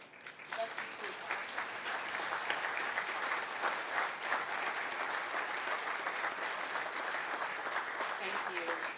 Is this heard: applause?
yes